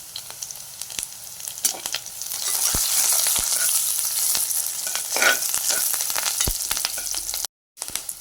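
Curry leaves sizzling and crackling in hot oil for vegetable dal rice, loud continuous frying with occasional sharp pops and stirring.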